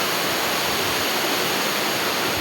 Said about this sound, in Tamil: ஃபால்ஸ் தெரியுதுங்களா? வந்தாச்சு. நானும் என்னோடய நண்பரோடு வந்திருக்கேன். தண்ணி நல்லாவே கொட்டுது.